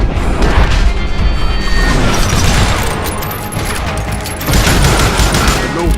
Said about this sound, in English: Robert Ollinger appeared with his terrible double-barrel shotgun.